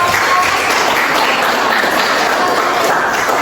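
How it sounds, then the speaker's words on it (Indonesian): A classroom audience applauds after a group presentation in a school class: steady, full clapping from many hands, sustained and fairly loud throughout without pause. "Berikan aplaus yang meriah."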